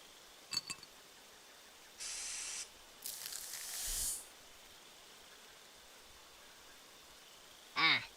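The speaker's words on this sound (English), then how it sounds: "anti-flower spray." Anti-flower spray used in the point-and-click hidden object game Haunted Hotel: Eclipse, heard as two short separate hissing spray bursts over quiet background, with small clicks and a brief chime around them.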